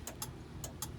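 Hazard lights on a 1975 Pontiac Firebird Formula undergoing an LS swap click in pairs, four crisp ticks in even rhythm, close and fairly quiet over a low background hum.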